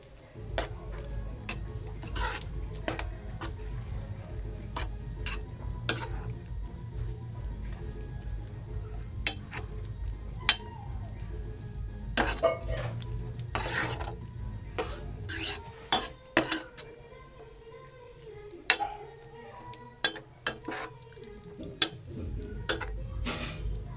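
A spoon stirs a vegetable curry with fresh grated coconut in a pan, making sharp scattered clinks and scrapes against the metal over a low background hum, close and fairly quiet.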